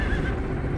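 Epona the horse whinnying in the video game Breath of the Wild, a loud close neigh mixed with hoof clip-clops, brief and alone without talk.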